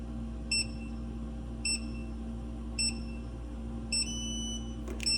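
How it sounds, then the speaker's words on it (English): A Migali Medical Pro temperature data logger sounds its alarm in a quiet room: a series of short, sharp electronic beeps repeating about once a second over a low steady hum, with a faster double beep at the end. "The Medical Pro temperature data logging system will continue to alarm until you set the time and date and year."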